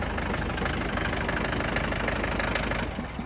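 A tractor engine, restored and sitting unused since 2022, idles close by with a steady, rough knocking chug, constant and loud for the whole stretch, no voices.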